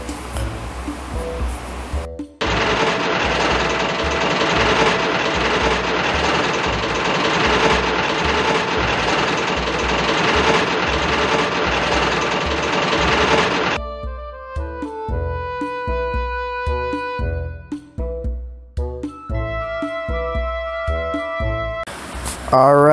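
A diesel locomotive in Trainz pulls an express train, giving a steady, dense engine drone with rumbling noise for about ten seconds. It then gives way to quieter, sparse tonal sounds and brief clunks with some talking.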